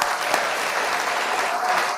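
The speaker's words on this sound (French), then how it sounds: "je pense qu'il mérite des applaudissements" A stadium crowd at a Barcelona versus Valencia football match breaks into sustained applause, a loud, continuous roar of clapping with no pauses.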